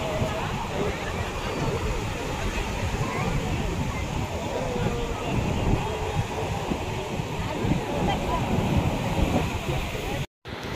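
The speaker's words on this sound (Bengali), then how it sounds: "এখন সমুদ্র, কি উত্তাল সমুদ্র এই ভোরবেলাতে।" Rough sea surf churns at dawn on Puri beach in a steady, loud wash with wind buffeting the microphone throughout, and a voice talks over it.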